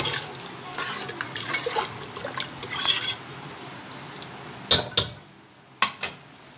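About 1.5 glasses of water trickle and splash into a metal pressure cooker for a few seconds, followed by several sharp clinks and knocks of cookware nearby.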